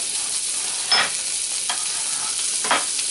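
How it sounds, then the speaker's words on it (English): Beef tenderloin sizzles steadily in a hot pan as it sears, a constant crackling hiss with a few louder bursts as it's stirred or moved. "I'm just going to sear this up"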